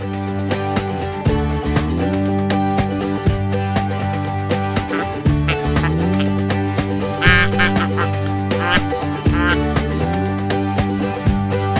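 Ducks quack loudly and continuously near a pond during a waterfowl hunt in Canada, a dense, overlapping chorus of nasal calls close by, with repeated rising call series layered over the steady din.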